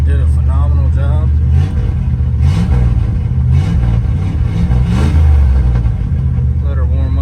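A first-generation crew cab truck engine runs steadily while warming up, a loud continuous low rumble with slight swells, with someone talking over it throughout.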